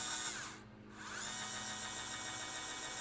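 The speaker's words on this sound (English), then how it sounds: "You're just turning it on like that." An electric grill brush with stainless steel bristles and a reverse setting runs with a steady, close whirring motor hum. The hum dips briefly near the start, then holds level and even.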